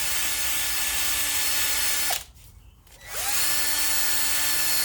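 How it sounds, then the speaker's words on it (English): A drill spinning a metal wire brush scrubs corrosion off an aluminum window frame, giving a loud, steady close-up whir. It stops for about a second and then starts up again. "The easiest way to clean this is to use a metal brush. I use it to brush on my drill"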